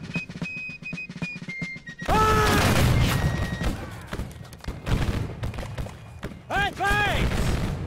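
Musket volleys in an American Civil War battle game: rattling bursts of gunfire and booming thuds, dense and loud after a quieter start, with shouted voices and bugle-like tones over the battle noise.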